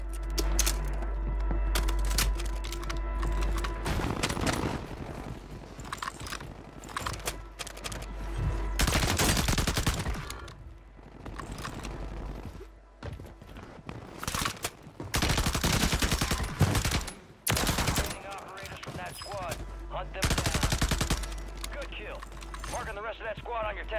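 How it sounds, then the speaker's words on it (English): Warzone 3 gunfire, including WSP-9 submachine gun fire, comes in rapid automatic bursts and scattered shots, some close and loud, others farther off, mixed with clanking weapon-handling noises and brief gaps between exchanges. "I don't know who the hell is shooting me in my back"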